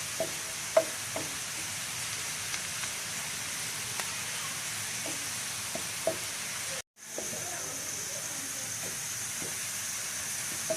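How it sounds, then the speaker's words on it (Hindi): Onions frying in a pan for an Indian fish curry (machli ka salan), a steady soft sizzle and hiss with occasional stirring clicks, close and continuous, with a brief break partway through. "अब ये प्याज फ्राई होना शुरू हो गया।"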